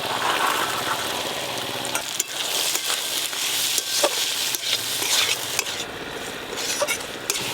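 Green peas fry in a spiced masala in a pan, with a steady sizzle and repeated scraping stirs of a utensil against the pan, close and continuous with no talk.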